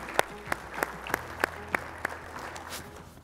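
A modest audience at a panel on ecology and economy gives the panelists a round of applause, heard as scattered, distinct claps over a soft room murmur at moderate distance.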